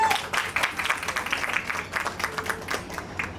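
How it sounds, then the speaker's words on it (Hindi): An event audience claps continuously to welcome the founder at a beauty pageant poster launch in Indore, the applause moderately loud and dense with uneven rhythmic bursts. "और तालियां रुकनी नहीं चाहिए। Everybody make some noise."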